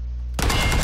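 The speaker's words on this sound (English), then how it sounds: "Taking shots from a guy he can't even see yet." Gunfire from the PUBG battle royale game bursts in abruptly after a third of a second of near-silence, a loud dense volley of shots that continues to the end.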